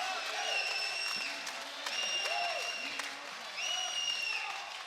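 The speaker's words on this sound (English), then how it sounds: "The crowd screaming the name of Kertész." A combat-sports arena crowd at an Oktagon fight event cheers and chants a fighter's name in repeated rhythmic waves, loud and sustained, with a commentator's voice faintly underneath.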